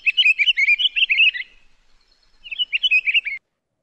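Bright chirping bird song in two clear bursts, a rapid run of tweets followed by a short pause and a second shorter phrase, close and loud against a quiet background.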